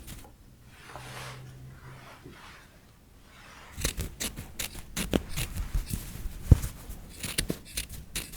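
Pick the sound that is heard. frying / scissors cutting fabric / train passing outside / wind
scissors cutting fabric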